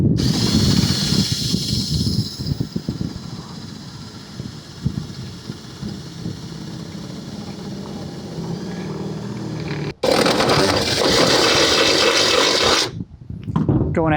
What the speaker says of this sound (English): you just decide that you're going to drill holes in it